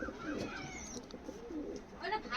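Pigeons, teddy breed, cooing close by in soft, low, repeated calls, with some background noise and scattered chirps.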